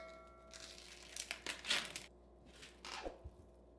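Plastic packaging around a boneless beef chuck roast of over two pounds crinkles and tears close by in several bursts, with short pauses between handling noises.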